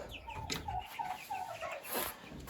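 Young male turkeys, about four to five months old, kept apart from the hens in a farm pen, give repeated clucking and piping calls at close range that rise and fall over steady barnyard background noise.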